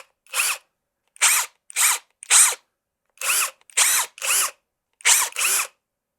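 Nine short bursts of a Litheli U20 cordless impact drill whirring, each triggered briefly with pauses between, close and loud against silence.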